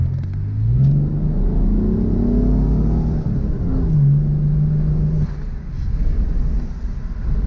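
A V6 Ford Mustang engine revs up and settles several times, a deep throaty rumble with rising and falling pitch, loud and close.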